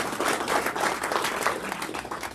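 A banquet audience at a handball nationals dinner in Minneapolis breaks into steady, dense applause, many hands clapping at once in a continuous wash that holds for the whole stretch without any talking.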